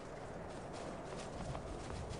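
Horse hooves clip-clopping in the video game Skyrim on PS3, a steady run of hoofbeats against a busy, noisy game soundscape.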